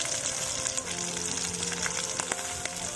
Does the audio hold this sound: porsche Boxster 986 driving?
no